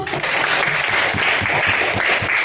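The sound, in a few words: audience applause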